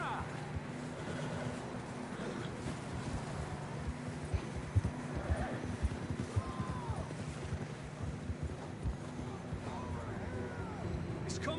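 Horses gallop over rough ground in Red Dead Redemption 2, their hooves clip-clopping in a quick, uneven patter under steady wind noise and voices, with a few louder hoof strikes in the middle.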